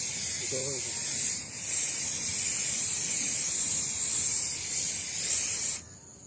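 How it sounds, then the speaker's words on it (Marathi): A continuous aerosol spray hisses loudly for several seconds with brief pauses as it is sprayed all around a can, then cuts off abruptly; a short voice is heard early on. "हा स्प्रे आपण या कॅनवरती मारूया"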